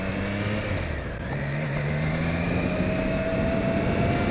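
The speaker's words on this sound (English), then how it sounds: "This is a really creamy, smooth engine by comparison." A Triumph Trident 660 motorcycle engine runs smoothly while the bike is ridden, giving a steady, continuous drone with rising tonal hum and wind noise, fairly loud and with no talk.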